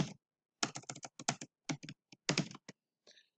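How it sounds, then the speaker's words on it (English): Rapid bursts of keystrokes on a computer keyboard as a name is typed, crisp clicking in short clusters with brief pauses between, close and clear against silence. "I'm just going to type my name."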